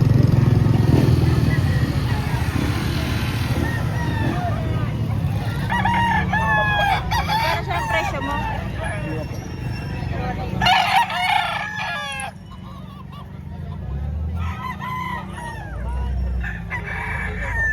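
Roosters crow repeatedly in a busy chicken market in Lipa, Batangas, several overlapping calls near and far, with motorcycle rumble and people talking in the background.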